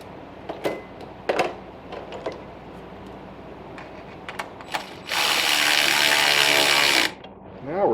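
Bolts being tightened down on an LS engine intake manifold during an engine swap: scattered sharp metallic clicks and ticks, then a loud, steady two-second burst of a power tool running, close by with no talking.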